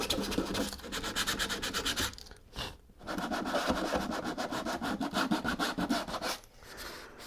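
Folded sandpaper scrubbed by hand across a 3D-printed part gives a steady run of quick, rasping back-and-forth strokes, close and fairly loud, with two brief pauses.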